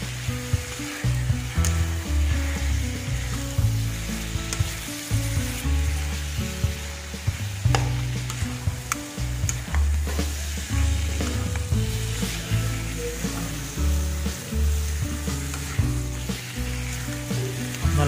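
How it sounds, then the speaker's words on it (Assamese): Pork with rosella leaves sizzling loudly in a pan, with steady frying under frequent scraping and stirring strokes throughout. "এতিয়া গোটেইখিনি মিহলাই ভাজি ল'ম ভালকৈ।"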